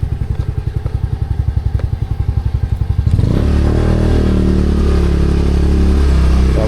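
A motorcycle's engine pulses in a fast, regular beat, then a heavy rush and rumble of riding takes over, loud and close with some clatter.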